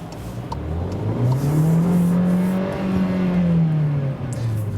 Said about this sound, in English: when you just hammer the throttle, the car does a kick down by itself